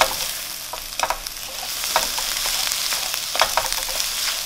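Chopped scrambled egg stir-fried with vegetables in a hot pan for shrimp fried rice, a loud continuous sizzle broken by clattering stirring strokes, close up with no talk.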